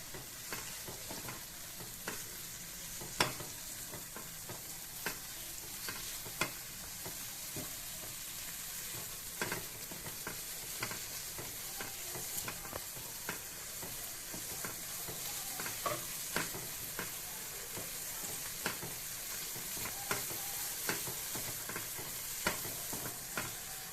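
Spices and lentils stirred and fried in a pan over a high gas flame for prawn moong dal, a steady close sizzle broken by frequent scraping strokes of a spatula, continuous with no voices.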